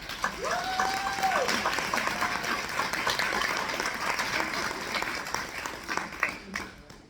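Audience at a wellness panel event claps in a sustained round of applause, fairly close, with some talking mixed in underneath and the clapping thinning toward the end.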